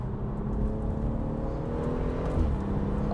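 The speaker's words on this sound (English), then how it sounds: "I don't know if you can hear that exhaust here now" A BMW M140i with Michelin Cup 2 tyres is heard from inside while driving, a steady low exhaust drone and road rumble throughout, fairly loud and even with a slight swell near the end.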